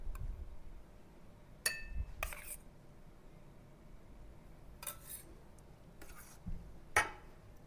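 A spoon taps and clinks against serving glasses as soaked basil seeds go into a homemade fruit custard, with a few faint, scattered clinks spread across a quiet room.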